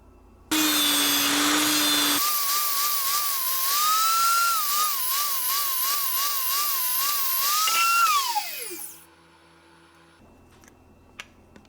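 A tungsten electrode grinder sharpening an electrode to a 20-degree point: a loud, steady high-pitched whine with wavering grinding pitch, running several seconds before spinning down to a hum.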